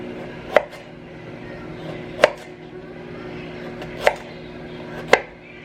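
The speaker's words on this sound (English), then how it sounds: "Okay, so now I'm going to do the carrot the same. I'm going to cut these into smaller pieces." A knife chops carrots into smaller pieces on a cutting board: four distinct, evenly spaced sharp chops, close and fairly loud, over a steady low background hum.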